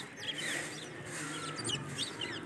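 Birds such as parrots and pigeons eating scattered grain chirp and squawk at close range in quick irregular bursts over a faint outdoor background.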